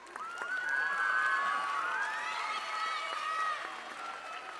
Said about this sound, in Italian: però un altro forte applauso!